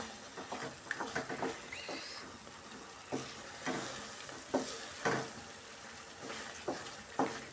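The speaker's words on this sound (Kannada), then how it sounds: "ಇನ್ನೂ ಒಂದು 5 ನಿಮಿಷ ಚೆನ್ನಾಗಿ ಫ್ರೈ ಮಾಡ್ಕೊಳ್ಳೋಣ." Onion relish frying in oil is stirred in a pan. A continuous close sizzle runs under scattered scraping and clanking strokes of the spoon at an irregular pace, with no speech.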